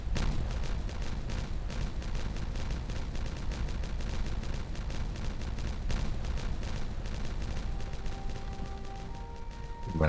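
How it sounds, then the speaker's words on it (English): Dynamite detonations in the video game Timberborn, a dense, continuous barrage of booming blasts and crackling impacts at steady loudness, with no pause throughout. "And we go and detonate this out from that end."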